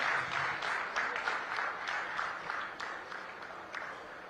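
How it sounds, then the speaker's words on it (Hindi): Audience applause at a hospital inauguration ceremony, a steady wash of many hands clapping at moderate distance, sustained for several seconds and gradually easing. "आप सभी से मेरा अनुरोध है, एक बार जोरदार तालियां बजाकर इस क्षण को और यादगार बनाते हैं।"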